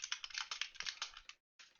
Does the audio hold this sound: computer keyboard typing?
yes